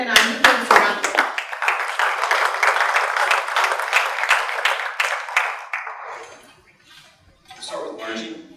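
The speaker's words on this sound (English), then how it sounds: "Let's give Rick Glenn and our new members a round of applause" Applause for new Rotary club members at a club meeting, a room of people clapping loudly and steadily for about six seconds, fading out, then a shorter burst of clapping resumes near the end.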